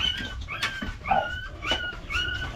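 A puppy whimpers and yips in short, high whining bursts repeated several times, close by, on a farm where piglets and sows are raised.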